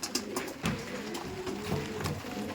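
Pakistani Chotiyal breed pigeons coo softly and rustle close by, with low burbling calls and a few sharp flutters or taps repeating over a couple of seconds.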